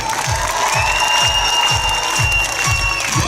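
A gala concert audience claps in sustained, dense applause, with cheering and a steady musical tone above it and a rhythmic low thump pulsing underneath throughout.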